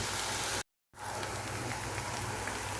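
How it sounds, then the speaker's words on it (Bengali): Shrimp and bitter gourd frying in a little oil over low heat give a steady, dense sizzle with a brief break partway through. "দিয়ে দিয়েছি চিংড়ি মাছ। এখন এটা না ঢেকে হালকা আঁচে ভাজতেই থাকবো।"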